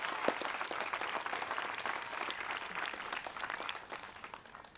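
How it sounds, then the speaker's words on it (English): Audience applause at the outdoor unveiling of the Elizabeth Hamer Monument in HFW Park: steady, dense clapping from a crowd fills about five seconds, then gradually thins toward the end. "So let's give a round of applause for all the people here today."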